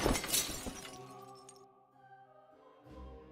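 A stained glass window shatters in the video game Enshrouded, a sharp burst of breaking glass followed by tinkling shards and a fading tonal ring, heard alone without talk.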